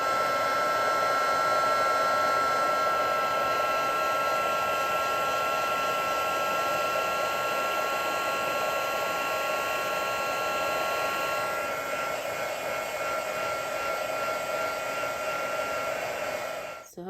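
A heat tool melts silver embossing powder on a card, giving a continuous close, loud fan-and-heater whoosh that holds steady for the whole stretch before clicking off at the end.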